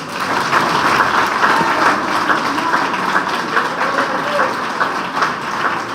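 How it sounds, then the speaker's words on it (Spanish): A church congregation applauds the Lord with steady, dense clapping that fills the room continuously from start to finish. "El aplauso al Señor."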